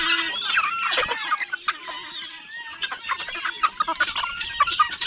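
Chickens and chicks cluck and peep on a rural Filipino homestead, with a dense overlapping mix of high chick cheeps and lower hen clucks, close and continuous, with no talking.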